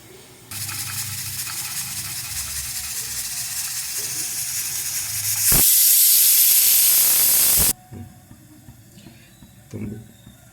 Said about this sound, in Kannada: ಇದನ್ನು ಸೀಳಾಕ್ಕೊಂಡು ಇದನ್ನು ತುಂಬಿ ಹುರಿಬೇಕು